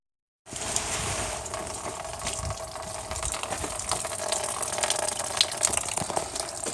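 Hot green radiator coolant drains from underneath a car into a black bucket, making a steady loud gushing splash that starts suddenly and keeps going without a break.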